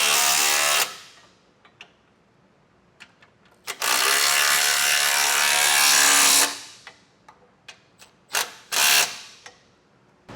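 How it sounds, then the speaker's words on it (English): Ratcheting wrench tightening a Blue Ox base plate bolt on a 2022 Ford Ranger: two long sustained bursts of dense mechanical clicking, plus scattered sharp ticks and knocks in between, close and fairly loud, no talking. "So I'm just gonna be using a ratcheting wrench here and get this one tightened"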